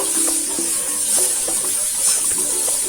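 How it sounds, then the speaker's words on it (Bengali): Kabuli chickpea and potato curry being stirred in a pan, with a steady low sizzle and soft scraping strokes repeating across the clip, close and moderately loud, no talking. "তারপরে আবার একটু নাড়াচাড়া করে নেবো খুব ভালো করে"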